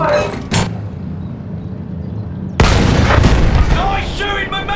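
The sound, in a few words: gunfire in the video game Battlefield 1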